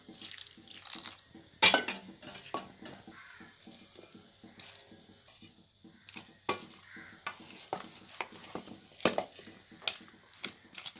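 Quiet sizzling of cauliflower fry in a pan with wet bubbling and stirring clinks, scattered scrapes and a few louder knocks as added water cooks down, no voices.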